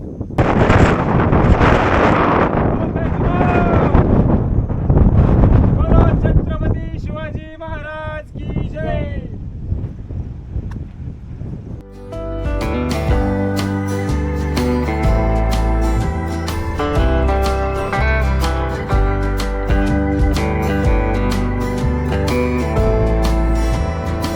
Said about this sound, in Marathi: सुसाड्याचा वारा या ठिकाणी सध्या सुटलेला आहे